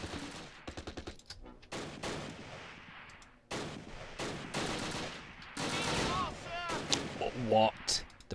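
Gunfire in the Close Combat wartime strategy game: repeated sharp shots and bursts in irregular clusters, some rapid like machine-gun fire, with a voice talking over parts of it.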